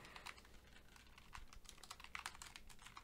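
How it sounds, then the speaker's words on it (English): Fast, irregular clacking of a computer keyboard picked up by a Samson C02 budget condenser mic, quiet and close, with the keystrokes coming in quick uneven bursts. "this is what it sounds when you're typing on a keyboard"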